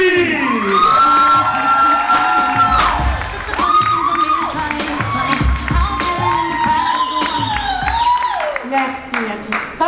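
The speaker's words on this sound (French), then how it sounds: "je vous demande de faire un tonnerre d'applaudissements" Comedy club audience at a Paris show responding with a loud, sustained burst of applause and cheering across the whole stretch, with shouts and a voice over the top.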